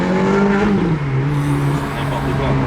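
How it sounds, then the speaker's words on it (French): A Ferrari F430 V8 with its exhaust valves open, a loud, close, sustained engine tone with a rising and settling pitch, and voices faintly underneath. "Ce son des valves, il est tellement caractéristique de la 430"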